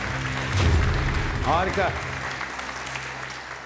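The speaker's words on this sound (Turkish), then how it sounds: "Bir kez daha kendilerini kuvvetlice alkışlıyor ve öyle uğurluyoruz" Audience applause in a hall for a contestant at a Quran recitation competition, a steady clatter of many hands that continues under a male announcer's voice and swells briefly partway through.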